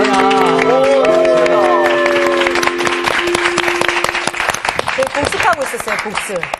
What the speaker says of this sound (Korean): 박수 한번 쳐드릴게요, 박수